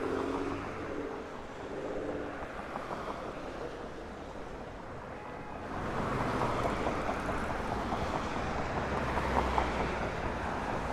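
Breezy open air beside Hook Creek in the Queens neighborhood of Meadowmere, with steady wind rush and distant water and traffic wash that grows louder and fuller partway through; no one speaks.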